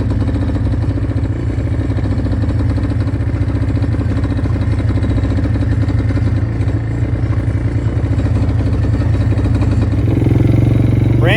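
A small engine runs flat out at full throttle, a loud, steady, buzzing drone close by that holds constant before shifting pitch near the end.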